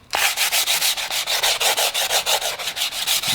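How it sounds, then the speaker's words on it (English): Finish sanding a blade repair with sandpaper produces fast, even back-and-forth scratching strokes, loud and close, with a regular rhythm and no voices. "Finish sand."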